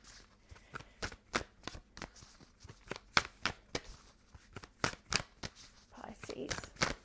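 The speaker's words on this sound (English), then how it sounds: "2 more shuffles, please. 1 more shuffle for Pisces." A deck of cards being shuffled in quick riffling bursts, sharp crisp flutters repeating every half second or so, close up with no talking.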